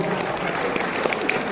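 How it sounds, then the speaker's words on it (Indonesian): At a gathering of about a thousand farmers in Bogor, an audience claps steadily in a dense, even burst of applause that fills the whole moment. "tepuk tangan melingkar dulu buat semuanya"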